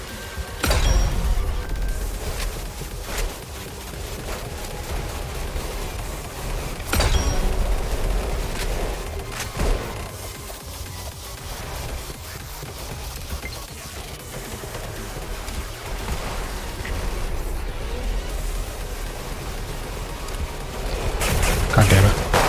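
Pistol fire in the video game Weird Gun Game, a few sharp loud cracks spaced several seconds apart over busy game noise and continuous talking.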